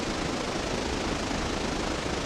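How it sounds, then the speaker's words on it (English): A diesel locomotive engine runs steadily in the train game Railroader, a dense, constant broadband rumble with no pauses or voices. "I hear something that sounds like a freaking diesel behind me"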